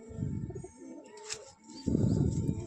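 Giribaaz pigeons coo in low, throaty bursts close by, one run of cooing, a pause with faint chirps, then another strong round of cooing.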